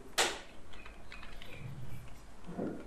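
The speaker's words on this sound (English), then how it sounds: "Now I am paste, press Ctrl V on our keyboard." A single sharp computer keyboard keystroke for a Ctrl V paste lands near the start, followed by faint light clicking and a soft rustle at the end.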